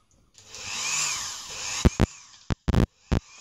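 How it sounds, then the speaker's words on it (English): A Dremel with a barrel sander on its slowest speed sands a plastic speedometer lens from a Suzuki GT550, giving a rising and falling whirring grind. Several short, sharp bursts follow, close and loud. "you use Dremel with a barrel sander on it, and then just slowest speed possible because you don't want to melt the plastic"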